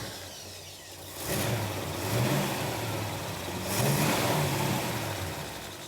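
A car engine cranks and catches near the microphone, then runs with a couple of rising revs over a steady rumbling idle.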